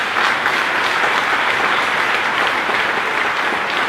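Audience at a Toulouse public meeting with François Ruffin applauds the co-author of a book on Big Pharma, a dense steady burst of clapping filling the room at even loudness throughout.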